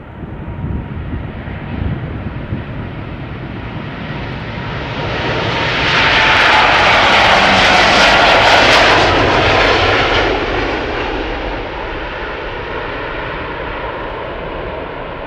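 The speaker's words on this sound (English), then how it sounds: "Here she comes, the 78710 Dreamliner to Bogota, KLM flight 741." A KLM Boeing 787-10 Dreamliner bound for Bogota takes off from Schiphol, its jet roar building from a distant rumble to a loud, full-bodied peak midway, then slowly fading as it climbs away, heard alone.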